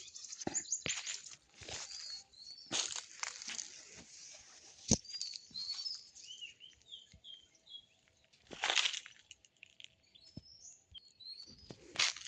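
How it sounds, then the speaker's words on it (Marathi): Outdoors in a village cashew orchard where a peacock has come, scattered bird calls and chirps ring out with brief bursts of rustling and flapping, set against a quiet background. "मोर आलाय काजूला आपल्याकडं."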